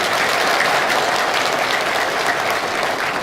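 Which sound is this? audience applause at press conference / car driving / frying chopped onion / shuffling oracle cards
audience applause at press conference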